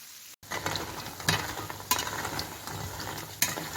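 Tulumba dough frying in hot oil, a close, dense sizzle with occasional stirring clatters and surges, steady throughout after a brief silent gap at the start.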